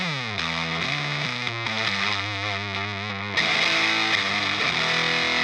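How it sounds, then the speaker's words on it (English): Electric guitar played through a Walrus Audio SILT tube preamp pedal into a captured Marshall JVM amplifier tone, with sustained distorted chords and picked notes that shift in pitch, then a brighter, denser strummed section. "used the Walrus Audio SILT because as you can listen is a great fast sound with some warm sound because it's also with a tube"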